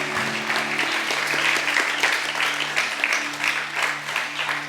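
A church congregation at a Sunday service claps in sustained, dense applause for several seconds, with a low steady musical tone humming underneath.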